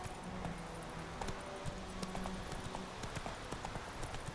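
Horse hooves clip-clopping in a steady, quick rhythm while riding in The Witcher 3, fairly faint and even, with no talking over them.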